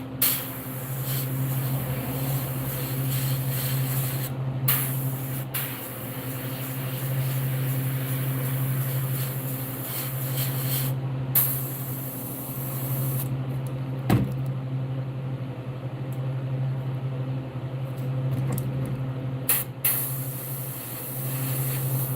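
An airbrush in need of cleaning sprays paint onto a realistic largemouth bass model. The spray comes as an airy hiss in bursts with brief gaps over a steady low compressor hum, and no one speaks.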